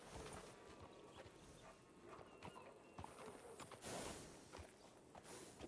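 Horse hooves clip-clop steadily in a ranch roleplay video game, a continuous patter of walking steps over a busy, fairly quiet background with no talk.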